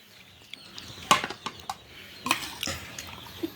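New glass plates being handed out one by one, a scattered series of light clinks and knocks of glass, close and sharp against a quiet background, with no talking.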